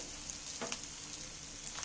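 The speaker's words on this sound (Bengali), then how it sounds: "পেঁয়াজটা দেখো অনেকটাই কিন্তু ভাজা ভাজা হয়ে এসেছে নরম হয়ে গেছে" Onion softening in a pan fries with a faint, continuous sizzle, broken now and then by a light stirring scrape.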